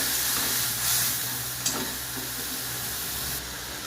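Ground ajwain and ginger paste frying with onions in a pan for a rohu fish curry, giving a dense, even sizzle and hiss with a brief stir near the middle.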